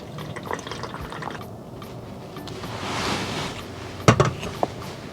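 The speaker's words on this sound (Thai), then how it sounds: "ปั่นเสร็จแล้วก็เทกรองนะคะ กรองเอาแต่น้ำนะคะ" Blended fingerroot juice poured and strained, a soft continuous trickle and splash of liquid with a few louder drips and clinks near the end, close by and without talk.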